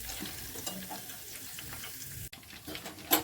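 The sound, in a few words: herbal leaves frying in oil for homemade hair oil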